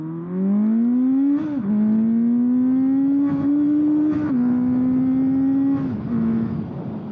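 A 1977 Kawasaki KZ650 motorcycle engine pulls steadily, its pitch climbing under throttle and then dropping sharply at each clutchless upshift, with three or four shifts over a continuous loud ride.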